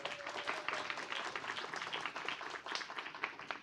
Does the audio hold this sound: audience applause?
yes